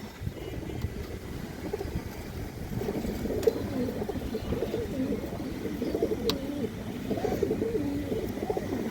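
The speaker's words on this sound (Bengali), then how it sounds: "একদম পাথর চোখের অরেঞ্জ চিলা একটা মাদি কবুতর" Female orange chila pigeons with pebble eyes coo steadily at close range, a low rolling murmur that carries on without pause and has no talking over it.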